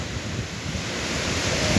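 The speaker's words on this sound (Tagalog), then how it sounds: "At ang laki po ng mga alon" Large ocean waves surging in rough weather on a Boracay beach at high tide, a steady broadband roar of surf mixed with wind buffeting the microphone, continuous and close with no voices.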